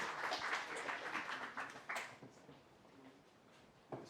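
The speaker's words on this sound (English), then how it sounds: "Please welcome him with a huge round of applause." Audience applause welcoming a speaker at a school event: a burst of clapping, fairly distant in a hall, that thins out and fades over a few seconds.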